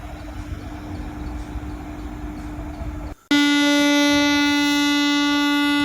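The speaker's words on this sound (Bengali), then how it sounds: "দেখতে না দেখতেই সত্যি সত্যি একটা ট্রেন এসে গেছে।" A train at Tiruvannamalai railway station: a low rumbling hum runs steadily, then a loud, sustained horn blares abruptly up close and holds.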